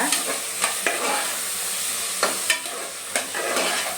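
Fresh green peas frying in oil in a pan for methi pulao, a continuous sizzle under repeated spatula scrapes and stirs, close and moderately loud with no talk.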